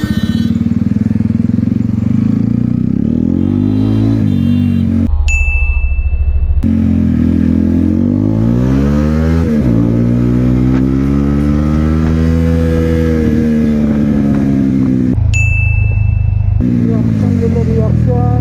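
A loud superbike revs and accelerates hard in a market street, its engine note sweeping up and down through repeated throttle blips and gear changes, with a couple of sharp breaks in the roar.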